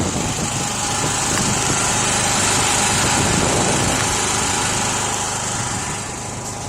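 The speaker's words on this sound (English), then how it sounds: "we turned on the generator" A generator running to supply power on a cloudy day: a steady, loud, high-pitched engine drone that holds constant throughout, easing very slightly near the end, with no talk.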